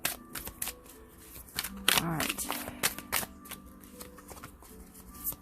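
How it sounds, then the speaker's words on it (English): Tarot cards are shuffled with quick riffling flutters and soft taps, close by, while a person speaks briefly over the shuffling. "I'm going to give these a quick shuffle."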